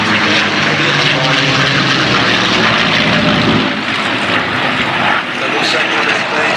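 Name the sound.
North American propeller aircraft flying at Duxford air show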